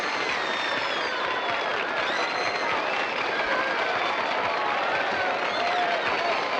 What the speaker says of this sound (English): The crowd is roaring so much.